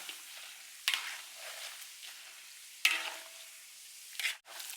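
Sausages and french fries deep-frying in oil over medium heat, a soft steady sizzle with three sharper bursts of spattering and stirring clatter spaced through it, close and fairly quiet, no voices.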